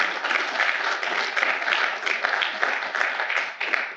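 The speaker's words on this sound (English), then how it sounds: "So let's give her a round of applause." A room of people at a city's state-of-the-city address gives a round of applause, continuous and fairly loud with many hands clapping at once, sustained evenly with no voices standing out.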